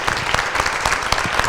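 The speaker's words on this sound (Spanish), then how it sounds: "Nada, un aplauso." An audience at a round-table event on entrepreneurship and managing emotions claps together, making a dense, steady patter of applause close by.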